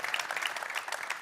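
Brief burst of applause for a guest at the Champions Hockey League draw, many hands clapping in a dense, moderately quiet patter.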